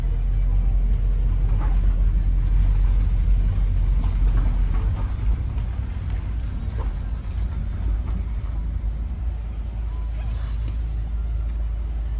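A 1999 VW Golf Mk3 with a 2.0 petrol engine runs steadily with a low, even rumble. The engine drone stays constant throughout, with faint clicks and small background noises above it.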